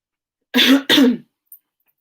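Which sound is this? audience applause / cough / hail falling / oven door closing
cough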